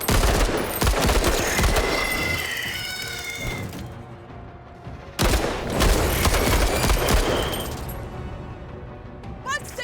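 Gunfire in the video game Menace: loud, dense automatic bursts fill the scene, cutting off briefly before another sustained volley, with faint effects and voices mixed in.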